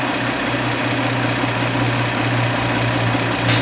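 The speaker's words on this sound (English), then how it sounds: "we're at idle now" A Hyundai Santa Fe engine idles steadily and close, a smooth continuous hum with a low droning tone and no talking.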